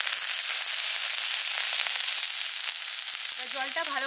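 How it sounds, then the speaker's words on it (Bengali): Water sprinkled onto a hot, oiled pan while making semolina soru chakli gives a loud, steady sizzle that crackles without pause, with faint tonal chirps near the end and no talking. "এর মধ্যে আমি একটু সামান্য জলে ছিটে দিয়ে দিচ্ছি।"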